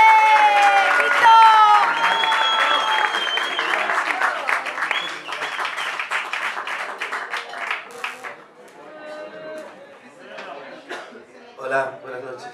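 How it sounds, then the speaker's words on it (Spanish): An audience at a tango concert at a jazz club claps loudly and cheers, with whistles over the applause. The clapping then thins out and trails off into scattered claps and murmurs. "le vamos a dar un gran aplauso"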